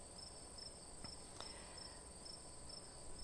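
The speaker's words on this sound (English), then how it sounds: "I can hear the crickets." Crickets chirp steadily in a faint outdoor night ambience, a continuous high trilling with a few soft thumps in the background and no voices.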